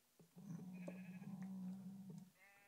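A sheep in a blocky video game gives one drawn-out bleat, close and clear, with faint game effects around it and no talking.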